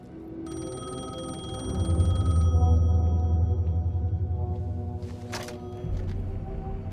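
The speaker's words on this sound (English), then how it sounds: "The payphone was ringing." Payphone ringing in the video game Alan Wake 2, a sustained electronic ring tone with a low hum building beneath it, fading out toward the end.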